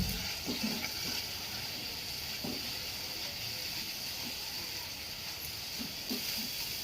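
Water poured into a pan of frying shrimp heads with salt makes a soft, steady sizzling hiss that runs evenly throughout, faint and close with no talking.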